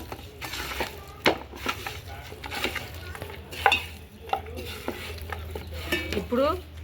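Garam masala and biryani masala being stirred in a pan for chicken biryani, with irregular scraping and clicking strokes of a spoon over a soft, continuous sizzle, close and moderately loud.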